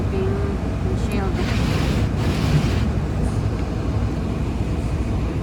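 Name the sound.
strong wind during a snowstorm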